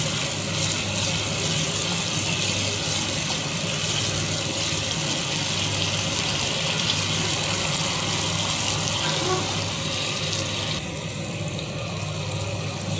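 Hot water pours into a simmering katla fish curry with yogurt gravy, a steady, close rushing splash that runs without a break for the whole stretch, with no talk over it.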